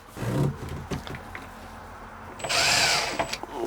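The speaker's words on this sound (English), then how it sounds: "These are just pilot holes, so they don't have to go all the way through, nor do they have to go straight." A handheld power drill bores pilot holes aboard a boat, with short bursts and handling knocks first, then a sustained whirring drill run of about a second near the end.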